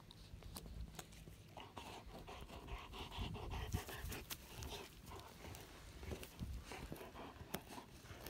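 A dog panting steadily and rhythmically close by, with soft rustling and footstep-like thumps mixed in, no talk.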